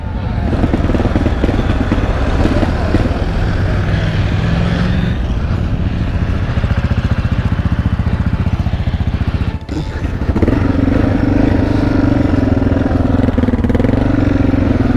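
A motorcycle's engine, with its fuel tap left closed, runs loud and close in a continuous rumbling drone. It dips briefly about two-thirds of the way through, then resumes with a steadier tone, and no one speaks.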